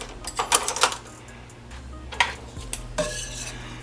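Plastic spoon scooping stuffed salmon from a dish: a cluster of quick clinking scrapes, then a few more isolated scoops, close by and moderately loud.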